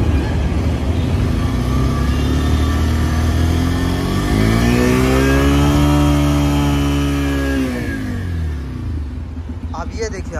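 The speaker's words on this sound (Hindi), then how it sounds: "दिखाने से पहले गाड़ी स्टार्ट करता हूँ।" A Bajaj Pulsar 125 Neon motorcycle engine idles loud and close, then revs up in one long smooth rise and settles back down, with a brief voice near the end.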